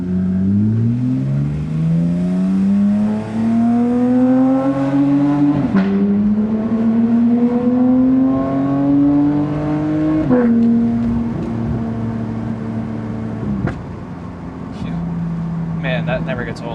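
Porsche GT3 engine pulls hard through several gears while driving, its rising tone climbing in long sweeps with brief drops at each shift, steady and close throughout.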